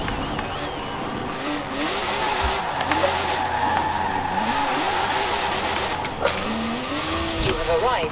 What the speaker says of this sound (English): She is revving hard.